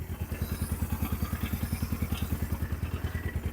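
An old custom motorcycle engine runs at a steady idle, a loud close rhythmic thumping putter with even pulses and no voices.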